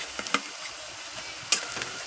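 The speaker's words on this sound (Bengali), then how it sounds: "রসুন বাটাটা দিয়ে আমি ভালো করে ভেজে নেব" Onions frying with garlic paste in a pan for a chicken dish, a steady sizzle broken by a few sharp scraping stirs of the spatula, close and alone.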